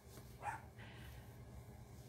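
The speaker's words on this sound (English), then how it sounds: "I don't know what you're barking at" A dog gives a single faint, distant bark or yip indoors against a quiet room hum, with no other sound around it.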